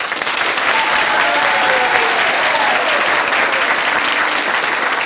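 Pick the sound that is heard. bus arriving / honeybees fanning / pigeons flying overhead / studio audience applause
studio audience applause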